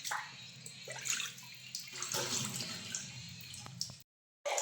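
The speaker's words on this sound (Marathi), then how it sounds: "किचन कटा धुवून घेते सगळा." Running water rinses down a kitchen counter, a steady broadband splashing and trickling that holds for about four seconds with small surges, then cuts off briefly before resuming.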